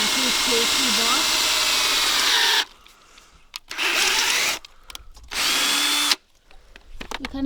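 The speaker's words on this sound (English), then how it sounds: "Now we're on to drilling the metal plate we bought." A power drill whines loudly through a metal plate for a Jeep Wrangler TJ roof rack in three long bursts, separated by quiet pauses with a few clicks and small knocks.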